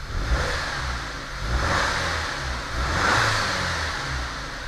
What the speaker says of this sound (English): So right now it's idling.